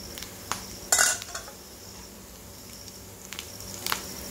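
A pan lid lifted off dried vanjaram fish frying on the stove: a sharp metallic clatter of the lid, then faint sizzling with a few light clinks of utensils.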